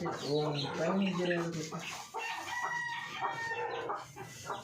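A rooster crows with stretched, wavering calls, overlapping with hen clucks and a person talking nearby.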